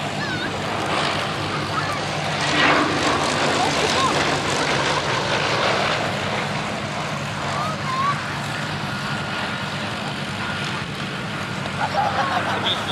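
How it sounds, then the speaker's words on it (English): A Bristol Blenheim Mk.1F with twin nine-cylinder air-cooled Bristol Mercury 20 radial engines roars past at an East Kirkby airshow, a broad continuous engine drone swelling and fading, with faint crowd voices mixed in. "The beautiful sound there of the two Bristol Mercury 20 nine-cylinder air-cooled engines."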